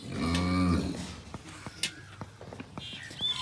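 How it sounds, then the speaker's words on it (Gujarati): Kankrej cows tied in their stalls at milking time, one giving a long loud moo near the start, followed by scattered hoof knocks and shuffling in the shed. "દોવાઈનો ટાઈમ થયો એટલે બધી ગાયો પોતપોતાની જગ્યાએ બંધાઈ ગઈ છે."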